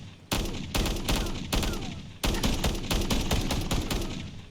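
An MW JAK-12 automatic shotgun in Fallout 4 fires .308 rounds in loud, close bursts, heavy booming shots in rapid strings broken by short pauses, with no talking.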